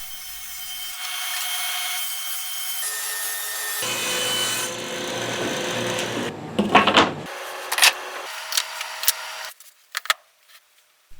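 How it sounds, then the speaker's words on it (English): Plywood strips being cut with a saw in a workshop: a loud, steady sawing drone runs for several seconds, then gives way to shorter bursts and knocks before it stops. "Now I cut 4 strips of plywood."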